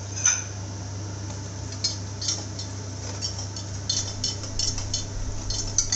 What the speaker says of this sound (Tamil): 3 மாவையும் சேர்த்துட்டு நல்லா கலந்து விட்டுக்கோங்க.